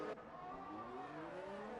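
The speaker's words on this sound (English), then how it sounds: "He really is revving that engine though on the downshifts." An F3 race car in a racing video game, its engine revving on downshifts at Monaco, a faint, steady engine note with tones sweeping in pitch as gears change, heard alone without talk.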